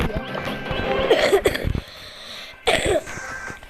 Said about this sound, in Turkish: fena öksürüyorum.